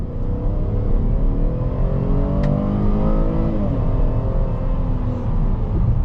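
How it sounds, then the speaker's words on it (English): A 2023 Chevy Traverse LT with a nine-speed automatic accelerates at full throttle from about 25 mph, a steady loud engine rumble rising in pitch through the run with audible upshifts, heard from inside the cabin with no talking. "We'll kind of just mash the throttle and see what happens."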